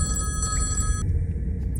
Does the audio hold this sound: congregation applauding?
no